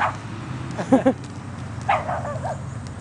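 A dog gives a few short, close barks and yips outdoors near housing at Fort Bragg, with faint background noise between them.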